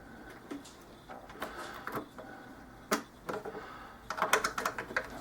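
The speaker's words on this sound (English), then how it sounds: "Just going to tighten these down with an Allen wrench" An Allen wrench tightens screws while installing an acoustic guitar preamp, giving faint close clicks, scrapes and small metallic taps in an irregular run that grows busier at the end.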